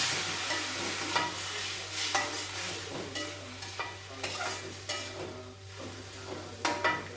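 Water poured into a pan of frying tempeh and vegetables sizzles steadily, with scattered clinks and scraping of a utensil stirring against the pan throughout.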